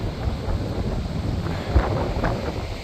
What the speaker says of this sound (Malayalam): ഇന്ന് നല്ല കാറ്റുണ്ട്.